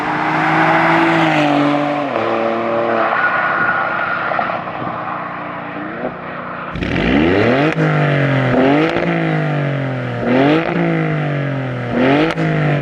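An Alfa Romeo Stelvio Quadrifoglio with a Z-pipe resonator delete roars loudly through several hard revs and gear changes, its exhaust rising in pitch, dropping back and climbing again in sweeping pulls with no talk.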